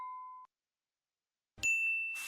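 A notification bell sound effect gives a short pure ding, then a pause of silence, then a brighter ringing chime that fades out, clear and close.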